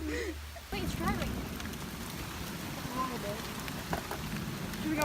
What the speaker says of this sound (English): Oh, it's raining so hard.